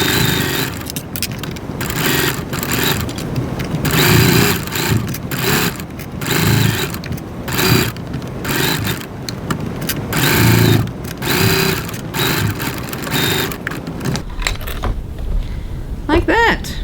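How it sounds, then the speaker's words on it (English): Sewing machine stitching a 1 centimetre seam at stitch length 2.4, running in a steady mechanical whir with brief pauses and restarts, while a person talks over it. "So now I'm going to stitch my seam"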